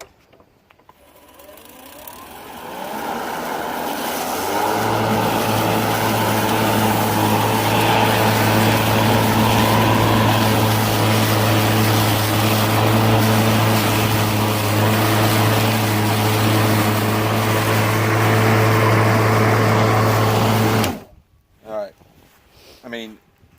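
A Makita X2 18-inch steel deck battery lawn mower starts after a few quiet seconds, then runs with a steady, loud motor and blade hum for about sixteen seconds before cutting off abruptly.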